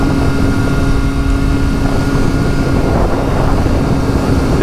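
A 2023–2024 Triumph Street Triple 765RS with a RapidBike Evo module drones steadily at cruising speed on the road, a loud continuous engine hum mixed with heavy wind rush and no pauses.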